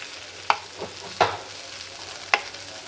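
Fish frying in a pan for a packed-rice lunch meal, a steady sizzle broken by three sharp utensil scrapes or clinks spaced across the short stretch, close and alone with no voices.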